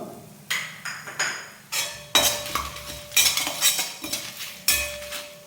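Dried red chillies roasting in a pan, stirred with a metal spoon that clinks and scrapes repeatedly against the pan in loud close strokes over faint sizzling.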